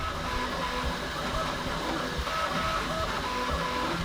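A Bambu Lab X1-Carbon 3D printer running a print gives off a steady, fairly loud mechanical whir with faint tonal motor whines, continuous and unbroken from start to end.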